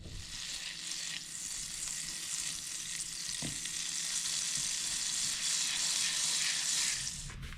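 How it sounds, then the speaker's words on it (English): Butter sizzles and spits steadily in a hot pan, heard close and continuous with a faint clack partway through and no talk over it. "Let's get some butter going."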